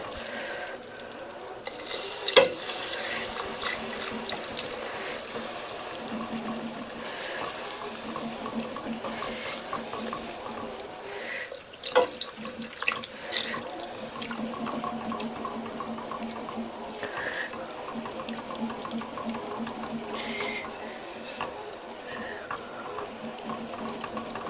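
Milk pours and a whisk stirs through a mac and cheese sauce in a pot, giving a continuous liquid swish with a few clinking knocks against the pan at moderate, close range.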